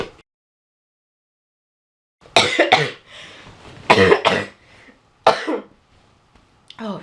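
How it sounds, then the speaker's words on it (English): A person coughs in a quiet room, a burst of several harsh coughs followed by a couple of isolated single coughs, close and loud against silence. "That cough is just hanging on."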